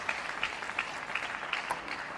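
A crowd at a table tennis match applauds in a short burst, with a dense patter of clapping heard at a moderate distance, steady for a couple of seconds.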